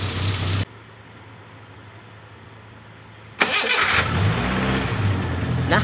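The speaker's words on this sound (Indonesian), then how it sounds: "Oke, coba kita ulang startnya." A car engine is cranked and restarted with the radiator cap open. A running hum cuts to near quiet, then a sudden start bursts into a loud, steady idle close by.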